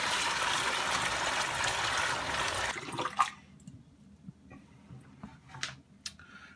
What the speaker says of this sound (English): We're just going to pour that in there.